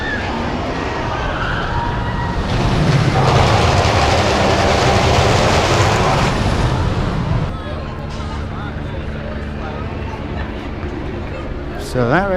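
El Toro roller coaster at Six Flags Great Adventure on the last ride of the night: a loud, continuous rumbling roar of the train on the track that eases after several seconds into quieter rattling and clacking.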